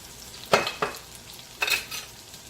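Tilapia fillets frying in a little oil in a pan, with a few short bursts of sizzle and scraping among a quiet steady hiss.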